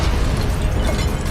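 Incendio fire spell cast in the Hogwarts Legacy video game on PC, a dense, continuous roaring burst with rumbling low end that stays loud and steady throughout, with no voice present.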